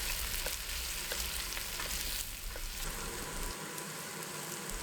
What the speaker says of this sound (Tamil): வெங்காயத்தோட கலர் லேசாக மாறுற அளவுக்கு இது நல்லா வதக்கிக்கணும்.